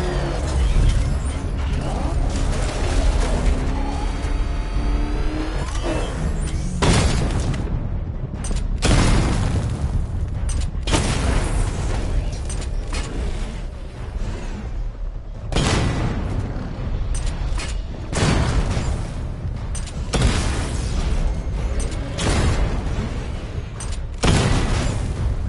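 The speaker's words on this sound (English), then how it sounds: "Destroy targets to charge up weapon energy and activate missile barrage." Batmobile weapons in the Batman: Arkham Knight video game blast targets in a dense, loud run of repeated booming explosions and mechanical firing bursts, near and continuous over roughly 25 seconds.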